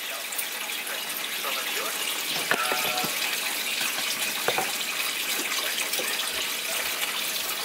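Running tap water pours steadily while a cleaned fish is rinsed beneath it, a continuous moderate splash with a few brief clinks, heard alone without speech.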